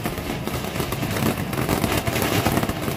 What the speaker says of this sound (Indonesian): kita nyalain mercon konik fountain yang warna biru